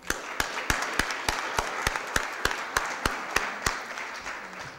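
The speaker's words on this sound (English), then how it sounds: "give Roy a round of applause real quick" Rhythmic clapping at a St. Louis city Board of Aldermen meeting, with sharp, evenly spaced claps at a steady beat over a diffuse wash of softer clapping from the room.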